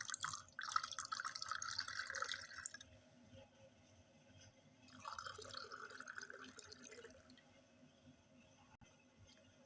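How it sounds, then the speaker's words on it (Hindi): Cold water poured into a serving glass of raw mango sharbat (keri panna), a close splashing, trickling pour lasting a few seconds, pausing, then resuming more softly before fading out. "अब इसमें ठंडा पानी हम ऐड कर देंगे।"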